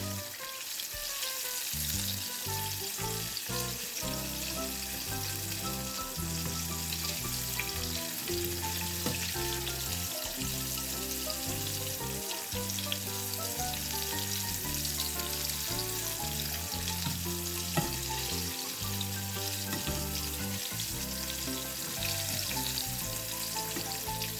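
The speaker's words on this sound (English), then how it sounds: "They're frying up beautifully." Apple pieces frying in hot oil, a dense continuous sizzle with crackles and faint stirring underneath, no voices.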